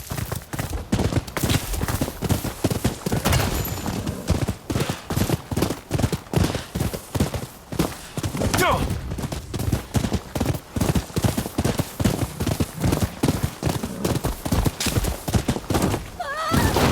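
A horse trots in the Rise of the Ronin video game, its hooves clip-clopping in a steady, rhythmic series of close, loud beats that go on without a break, with no voices over them.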